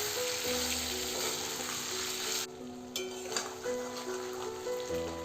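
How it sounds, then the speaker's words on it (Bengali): Chicken frying in hot oil with dry red chillies, bay leaf and whole cumin, a constant close sizzle that drops out for a moment midway and returns. "কড়াইতে তেল গরম হওয়ার পর দুটো শুকনো লঙ্কা, তেজপাতা আর গোটা জিরে ফোড়ন দেওয়ার পর এর মধ্যে চিকেনগুলো দিয়ে দিয়েছি।"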